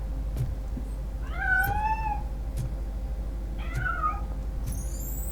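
Cat meowing in the video game RoboCop Rogue City, two drawn-out rising-and-falling meows a couple of seconds apart, fairly clear over a low steady game background hum.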